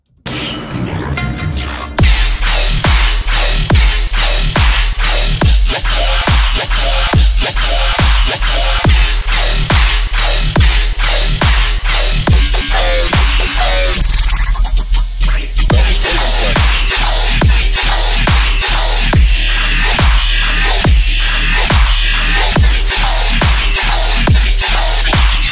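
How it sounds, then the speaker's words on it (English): Heavy riddim dubstep drop with a metallic bass sound designed in the Serum synth: loud, dense and continuous, with evenly pulsing wobble hits over deep sub-bass and a short pause near the middle. "here I've got a sort of a samurai rhythm drop that I've done"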